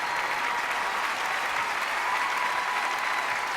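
Audience applause for a band after an audition performance on a youth music competition show, a steady dense wash of clapping filling the room without pause, loud and close, no voices standing out.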